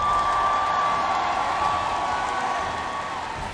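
A large esports crowd at the M5 knockout stage applauds and cheers the DEVU team, a dense, steady wash of clapping and whoops that fades slightly toward the end.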